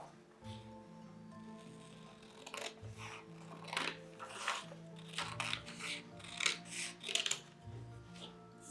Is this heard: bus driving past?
no